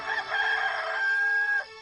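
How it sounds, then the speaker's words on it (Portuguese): A rooster gives a single long, clear crow, sustained and fairly close, with no talk. "Imediatamente cantou o galo."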